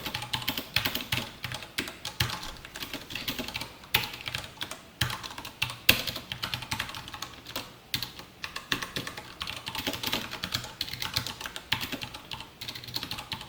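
Fast, continuous typing on a computer keyboard, close and clear, with steady clattering keystrokes and occasional louder key hits throughout and no speech.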